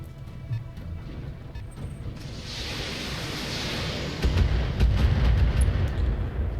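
Artillery barrage in a mech video game: a broad roaring rumble that thickens into heavy, booming low-end impacts in the final seconds, with scattered sharp cracks over a steady noisy wash.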